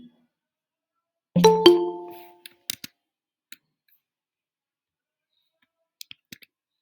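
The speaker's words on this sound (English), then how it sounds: "Right click on the editor, run option." Computer mouse clicks while a program is run in a code editor, with a short ringing chime near the start, then sparse, sharp, isolated clicks in a quiet room.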